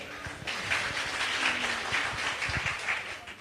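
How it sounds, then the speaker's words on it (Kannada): An audience at a women entrepreneurs' gathering applauds with dense, steady clapping that fills the room for a few seconds. "ನಾವು ನಿಮ್ಮ ಜೊತೆ ಸೇರಿ ಜೋರಾಗಿ ಚಪ್ಪಾಳೆ ತಟ್ತೀವಿ."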